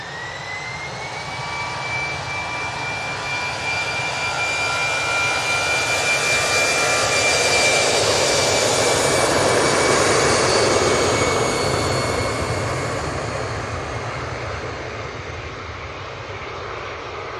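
A Eurowings jet airliner at Manchester Airport roars past, a loud, broad engine rush with a whining tone that swells to a peak mid-pass and slowly eases as it continues.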